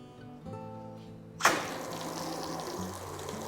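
A rinse hose is switched on and water sheets off a white car in a steady rushing gush. The flow starts with a sudden burst and keeps going over a low background hum.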